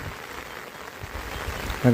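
Rain falling steadily outdoors in a Gujarati village, a soft continuous hiss of drops close by.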